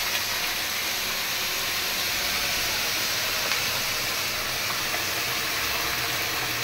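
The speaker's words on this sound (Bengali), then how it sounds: "হয়ে গেছে চাল ভাজা, এখন গরম পানি দিতেছি।" Hot water poured onto fried rice in a pot sends up a loud, continuous steam hiss that holds steady throughout, with no voices.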